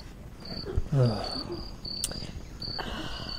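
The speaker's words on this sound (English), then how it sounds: "You're playing crickets?" Recorded crickets chirp in a steady, high, pulsing pattern from a played-back sound effect. Short voiced sounds come in briefly underneath.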